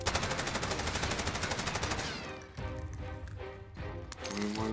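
Rapid automatic gunfire rattles loudly in Warzone, a fast even burst for about two seconds, then sparser, more distant shots and clatter follow.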